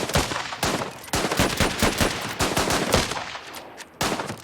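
Gunfire in the war strategy game Last Train Home, a loud close sequence of rapid shots and short automatic bursts cracking one after another for several seconds, with no voices.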